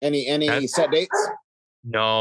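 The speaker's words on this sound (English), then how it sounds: "sorry for the barking dog." A dog barks in the background of a conversation, with a short burst of repeated barks mixed in under the talking near the start and again after a brief pause.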